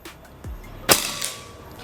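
A Predator Escobar semi-automatic PCP air rifle fires a single sharp shot during an accuracy test, a loud crisp crack with a brief ringing tail, preceded by a softer thump.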